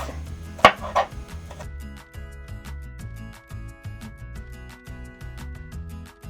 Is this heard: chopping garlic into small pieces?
yes